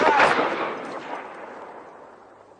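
A single loud gunshot fired at a man in an audio drama, a sharp close crack whose echo rolls away and fades over a couple of seconds.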